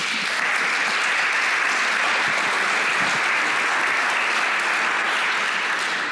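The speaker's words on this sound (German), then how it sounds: "Ich finde, beide dieser Aussagen haben einen Applaus verdient." Steady, dense audience applause at a German science debate event in Bonn, a continuous wash of many hands clapping at even loudness for several seconds with no talk.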